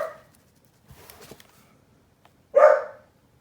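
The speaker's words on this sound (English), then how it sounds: "I assume that's Grumpy Dog walking in the other direction." A dog gives one loud, close bark indoors after a stretch of quiet shuffling, with the tail of an earlier sound at the very start.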